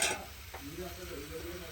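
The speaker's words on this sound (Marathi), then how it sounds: "भाजीला उकळ आलेला आहे" Mutton curry boiling in a pot on a home gas stove, with a steady low bubbling and sizzle close by after a brief louder scrape at the start, no talk over it.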